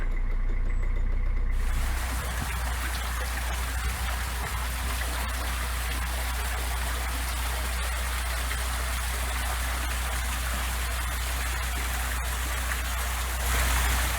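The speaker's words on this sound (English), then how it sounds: "Chris is now just starting to open the paddle on the lock" Water gushes steadily through an opened paddle on a canal lock, a loud, continuous rushing roar close by with no one talking.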